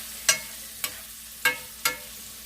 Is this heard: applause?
no